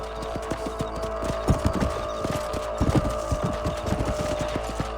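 Horse hooves in the video game Red Dead Redemption, a steady rhythmic clip-clop of several horses trotting over a low constant hum, close and continuous with no talk.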